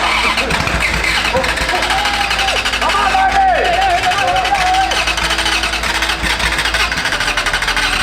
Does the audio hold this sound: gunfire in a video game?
no